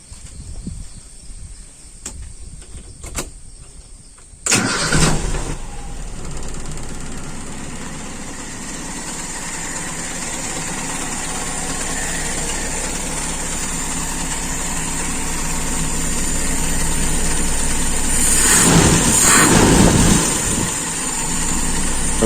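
A small engine cranked and started during carburetor idle-mixture adjustment: a few quiet clicks, a sharp catch, then a steady, buzzy idle that swells slightly louder later, close and continuous without talk.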